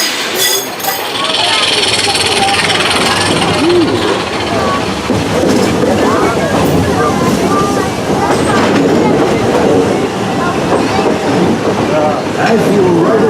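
The Walt Disney World Railroad train at Magic Kingdom rumbling and clattering along its track, a steady loud mechanical din with occasional squeaks, voices faintly mixed in.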